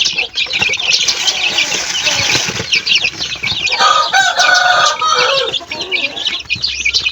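A mother hen with her brood of chicks, mixing close clucks with a dense chorus of high peeping cheeps, and some wing flapping, loud and continuous.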